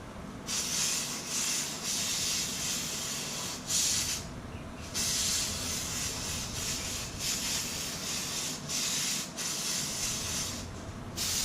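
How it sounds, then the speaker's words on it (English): Repeated bursts of hissing foam adhesive sprayed from an aerosol can, close and fairly loud, separated by short pauses, with one longer gap midway. "spray this side, and spray where you're attaching it"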